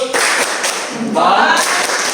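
A Year 5 primary class performs the 'tepuk salut' clapping chant: loud, dense bursts of many hands clapping together, with children's voices chanting in between.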